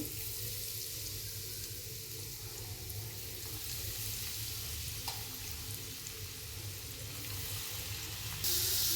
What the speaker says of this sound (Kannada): ಈಗ ಎಣ್ಣೆ ಒಳಗೆ ಹಾಕ್ಕೊಂಬಿಡೋಣ್ರಿ. ಎಣ್ಣೆ ಕಾದತಿ.